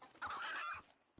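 A chicken-shooting grenade in the video game Black Ops 3 gives a single short burst of chicken clucking, loud and close, lasting about half a second before fading to quiet.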